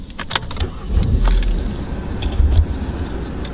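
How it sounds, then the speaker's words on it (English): A 2019 Volkswagen Polo GTI DSG engine cranks and catches, settling into a low idle rumble, with light jingling clicks of keys near the start. "To start the car up, foot in the brake"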